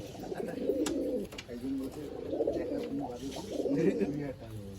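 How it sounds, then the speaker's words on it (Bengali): Male Giribaz pigeons coo softly in a repeated, rolling murmur close by, going on steadily while people talk quietly over it. "এটা দেখুন গিরিবাস পায়রা সেল আছে"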